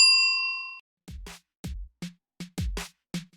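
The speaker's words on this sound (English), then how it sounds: "Hit the notification bell." Notification bell ding: one clear ringing chime that fades, followed by a string of short percussive clicks and taps.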